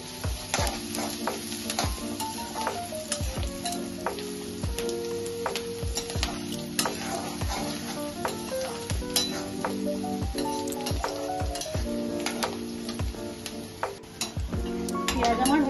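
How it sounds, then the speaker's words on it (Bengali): Onions sizzle steadily in a pan while a spoon scrapes and stirs them in repeated strokes, with occasional metallic clinks throughout. "পেঁয়াজগুলো একটু ভাজা ভাজা হতে দেব।"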